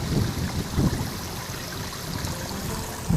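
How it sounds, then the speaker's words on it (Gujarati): Water trickles and splashes steadily from a leak, a continuous wet rushing with a few louder spurts, fairly close and with no voices. "અહીંયા કણે થોડોક વાલ લીકેજ રાખ્યો છે એટલે પાણી ભરવા ફરતું આવે ને"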